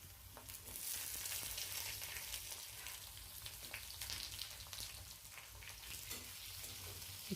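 Potato pieces fry in hot mustard oil with cumin, a soft continuous sizzle with occasional light stirring, steady and fairly quiet from start to finish.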